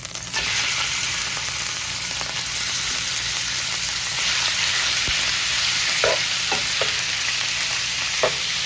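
Beef seasoned with salt and pepper browning in a pan for a canned stew, a loud, steady sizzle throughout with a few scraping stirs near the end, no talking.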